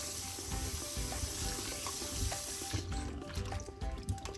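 Dried chiles being rubbed by hand in a bowl of warm water, with soft sloshing, swishing and splashing, close and fairly quiet, growing choppier toward the end.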